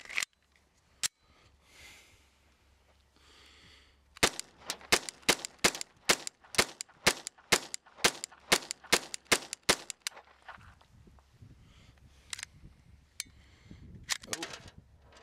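Rapid series of sharp, loud gunshots from a small-caliber kit gun firing CCI 40 grain round nose ammunition, roughly a dozen cracks at an uneven quick pace with a few scattered shots before and after, outdoors with no talking.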